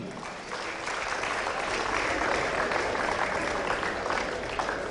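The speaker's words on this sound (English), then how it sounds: "Please give him a round of applause, ladies and gentlemen." Sustained applause from a large audience at the 2004 Indoor Cricket World Cup men's grand final, dense and even clapping that holds steady for several seconds.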